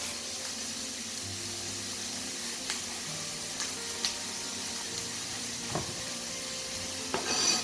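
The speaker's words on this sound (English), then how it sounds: "fry up all that onion vapours" Onions frying in a pan on a stove for a vegan mushroom risotto: a steady, soft sizzle with occasional light clinks and stirring scrapes of a utensil, no talking.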